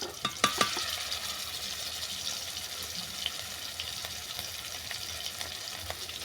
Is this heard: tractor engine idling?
no